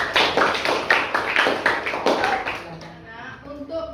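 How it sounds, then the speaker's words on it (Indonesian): A classroom of children claps for a group in a lesson, a fairly loud burst of quick claps and taps that fades out after about three seconds, followed by quieter shuffling and faint talk. "Sekarang tepuk tangan untuk kelompok Cinderella"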